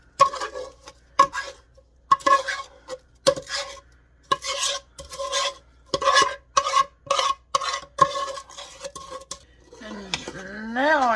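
Cranberry raspberry habanero jam being stirred in a large pot, a spoon knocking and scraping against the metal in a steady run of clear clinks, followed by a softer wet, squelching swirl near the end.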